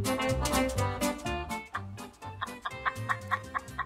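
A hen clucks in a rapid run of loud, close clucks, then in short spaced bursts with brief pauses between.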